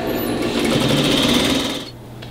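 Sewing machine running a steady rapid stitch along a pants seam, loud and continuous for nearly two seconds before stopping, leaving quiet room tone.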